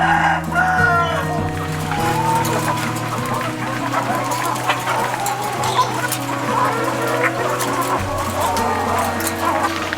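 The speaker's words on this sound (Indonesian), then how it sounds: "Merawat ayam petelur tidaklah sulit." Laying hens cluck and call together on an Indonesian chicken farm, a busy, close flock chorus with scattered bird cries over a low, steady background hum.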